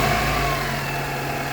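A Holden Apollo, a rebadged Toyota Camry, revs at its first start in six months with the throttle held open, a loud close steady engine roar that eases slightly as the revs settle.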